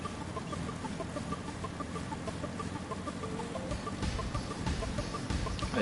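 A Red Rooster Steed mount in Final Fantasy XIV clucks in short, evenly repeated notes over steady game ambience and music, moderately loud with no voices.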